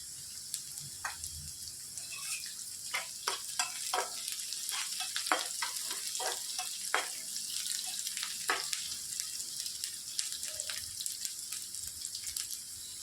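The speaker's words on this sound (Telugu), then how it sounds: "బాగా ఫ్రై చేసుకోవాలి. పచ్చిమిర్చి 2 వేసుకోవాలి." Green chilies and sliced onion frying in oil give a soft, steady sizzle with frequent crisp pops and spatter bursts and stirring clicks throughout, heard alone without speech.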